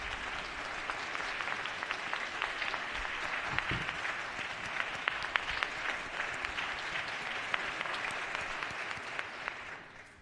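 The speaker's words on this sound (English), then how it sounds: "You can give her applause." Sustained applause fills the House chamber during a floor session, a steady crackle of many hands clapping together for about ten seconds before it begins to fade, with no voices over it.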